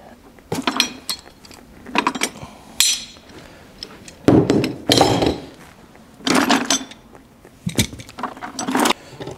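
Metal G clamps handled and tightened while gluing a DIY LiFePO4 battery build, giving a series of close, sharp clanks and knocks in irregular bursts with brief pauses.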